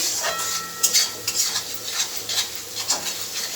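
Ginger-garlic-green chili paste masala sizzles in a pan while being stirred, with clinking utensil scrapes and steady frying hiss throughout.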